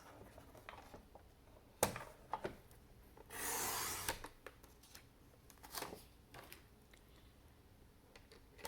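A sheet of 8.5 by 11 inch cardstock slides into a paper trimmer and is sliced in half at 5.5 inches: scattered light taps and rubs, then one short rasping cut, close and fairly quiet, with no talking.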